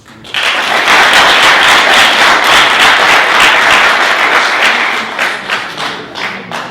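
Loud, dense applause from a conference audience at a Cameroonian youth celebration in Bordeaux, honoring a business leader, starting abruptly and holding strong before thinning into scattered claps near the end.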